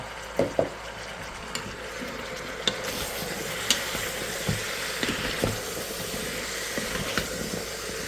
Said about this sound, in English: Hear that sizzling?